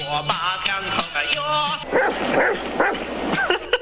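A dog that can barely walk whimpers and gives high, nasal yips in a series of short cries, loud and close, with no talking over them.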